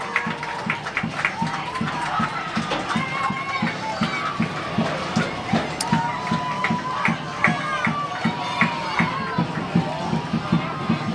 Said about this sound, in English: you can listen to the crowd